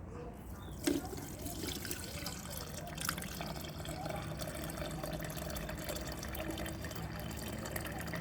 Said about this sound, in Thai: จากนั้นก็นำน้ำเกลือที่เราต้มไว้นะครับ มาเติมนะครับ